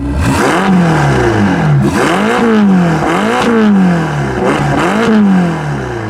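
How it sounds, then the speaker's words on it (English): A Ferrari Portofino's exhaust note roars loud and close through repeated rising revs, each climbing sweep dropping back before the engine surges again, with no talk over it. "this car also has an exhaust note that you'd expect from a real Ferrari"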